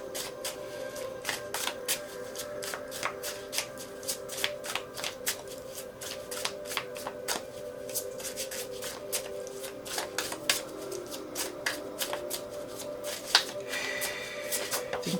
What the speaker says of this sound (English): I'm being called to pull one more card from this deck.